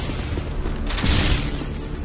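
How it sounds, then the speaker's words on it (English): A flashbang grenade goes off during a Modern Warfare 2 match on the Scrapyard map, a dense broadband burst and rumble that swells around the middle and holds loud and close without fading out. "Try to throw a cheeky flashbang there."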